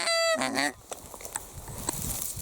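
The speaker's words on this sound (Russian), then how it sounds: "Парочка серых гусей вышла прямо на классическую дистанцию для выстрела." A pair of greylag geese honk outdoors in winter, a few loud nasal calls at the start followed by faint scattered calls and rustling over a quiet background.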